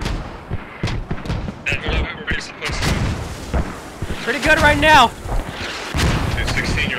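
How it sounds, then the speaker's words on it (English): Mortar fire in the Squad video game during a tournament match, repeated booms and blasts rumbling under a caster's continuous commentary, with a whistling incoming round partway through. "these mortars are preventing Mumblerines from pushing"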